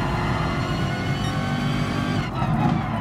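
Race cars in Gran Turismo Sport during a manufacturer series race, engines droning loudly and continuously with several cars close together, tires squealing briefly near the end.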